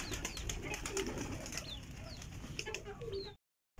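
Pigeons coo and chickens and other birds chirp and cluck nearby while feeding on grain, with a steady background patter of rain and faint rustling.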